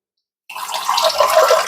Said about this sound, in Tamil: ரொம்ப தண்ணி ஊற்றிடாதீங்க கொஞ்சமாக தண்ணி ஊற்றிட்டு அந்த பாகு அப்படியே கிண்டி